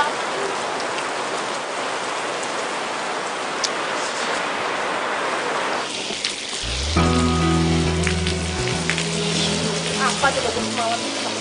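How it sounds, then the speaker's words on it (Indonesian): Steady hiss of rain falling on a surface fills the first half, then continues faintly beneath loud music that comes in partway through. "Kenapa pakai hujan segala sih?"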